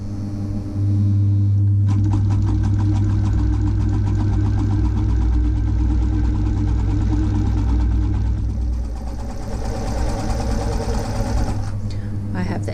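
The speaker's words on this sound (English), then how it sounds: "I'm going to start at the top, hold my threads, and then I'm going to zigzag down each edge." An industrial sewing machine zigzag stitches down the edges of heavy-duty fabric, a steady mechanical hum with rapid needle chatter running for about ten seconds, close and loud, with a low motor drone underneath.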